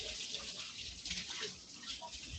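Tap water runs steadily while a bowl is rinsed in a kitchen sink, a continuous close hiss and splash lasting a couple of seconds without talk.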